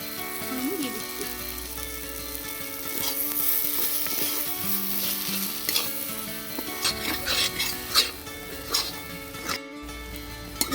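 Whole fennel seeds, cinnamon sticks, cardamom, cloves, black pepper and a bay leaf crackle and sizzle in hot oil in a home kitchen, a steady close frying hiss with stirring clinks and scrapes throughout.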